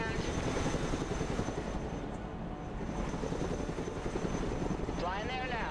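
A Chinook helicopter in the Broken Arrow video game, its rotors beating in a constant, dense chop that fills the whole stretch, with speech mixed in.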